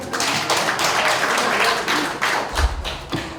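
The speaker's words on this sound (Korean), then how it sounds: "다시 한번 여러분 뜨거운 박수 좀 부탁드립니다." Applause from the audience at a civic forum general meeting, an irregular patter of hand claps close by with a few louder thumps, no speech over it.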